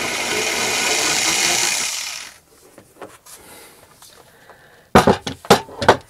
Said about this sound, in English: And now I'm screwing it together.